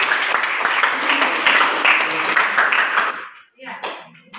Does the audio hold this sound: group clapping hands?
yes